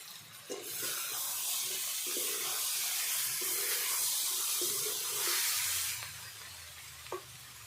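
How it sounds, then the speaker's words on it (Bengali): A pot lid is lifted over new potatoes steaming covered without water, releasing a loud, steady hiss of steam and sizzle with soft metallic clinks at the start and end, close by. "তো আমি দেখে নিচ্ছি ঢাকনা তুলে।"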